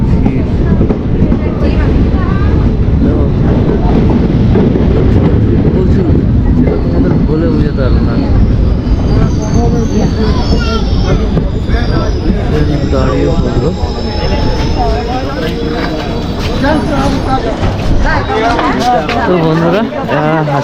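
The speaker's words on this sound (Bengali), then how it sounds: "যেহেতু এটা অফিস টাইমের ট্রেন" An office-time commuter train in North Bengal, on the Hamiltonganj to Siliguri run, rumbles steadily and loudly from onboard, with a constant low roar and rattling. A crowd of passengers talks throughout over the noise.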